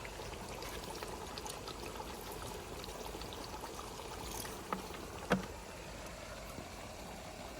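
Water is poured into a mutton masala gravy in a village kitchen: a quiet, steady wash of liquid with a single brief clink near the end.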